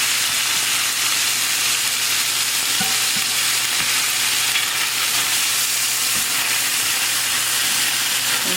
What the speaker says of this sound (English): when we finish pan-searing these fish